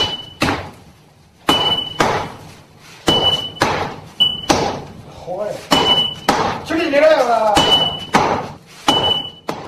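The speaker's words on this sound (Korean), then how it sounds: "망치질이 자꾸 빗맞는다" A hammer strikes hot iron during traditional sword forging, about ten loud, evenly spaced ringing blows close by, with a voice heard briefly between strikes.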